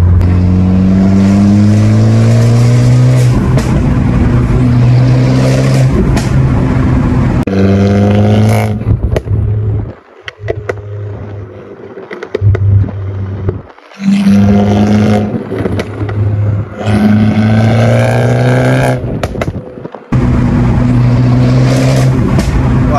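Loud, close engine roar from an Abarth Competizione with a loud exhaust, revving hard through repeated rising pulls and gear changes and briefly dropping off between bursts, driven on a twisty mountain road with tight hairpins.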